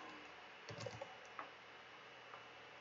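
A computer keyboard clacks as a domain name is entered into an online shop's search field, a short run of soft, close keystrokes over a steady background hiss.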